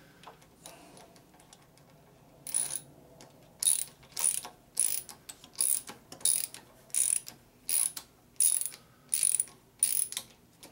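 Allen wrench turning screws on a 1972 Harley Sportster Ironhead, faint rhythmic ratcheting clicks repeating about a dozen times in a quiet workshop.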